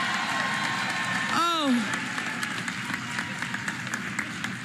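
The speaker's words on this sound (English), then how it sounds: "Give her a round of applause." An audience applauds a school principal at a public education address, steady crowd clapping throughout with a brief voiced exclamation and a rising-falling tonal sound cutting through early on.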